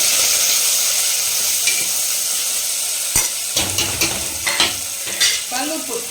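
Onions and curry leaves fry in a pan for a bottlegourd gravy, giving a steady bright sizzle with a run of clattering stirring scrapes in the second half.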